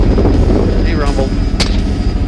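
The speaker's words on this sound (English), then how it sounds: "That's a 300 blackout right there." Shots from a 300 Blackout rifle, a Daniel Defense PDW pistol, fired from a helicopter during a hog hunt: a few sharp cracks over heavy rotor and engine rumble.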